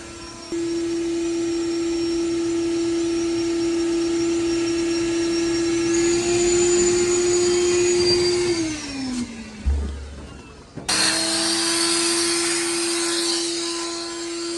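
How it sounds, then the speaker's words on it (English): An air blower forces air through the filter, pipes and heater of a fiberglass swimming pool's plumbing, a loud steady whine that sags in pitch, cuts out briefly, then roars back on alone. "we're blowing air in through filter, all through these pipes, through the heater"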